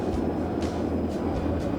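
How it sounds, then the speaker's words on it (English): An electric train running in the video game Transport Fever 2 on the Riverlands map: a steady low rumble with faint rhythmic clicks of wheels over rail joints, continuous and moderately loud. "So it goes back and forth, this train."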